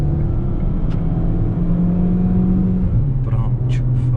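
A Chery Tiggo 7 SUV engine pulls hard through an overtake, its steady interior drone rising in pitch, loud and continuous inside the cabin.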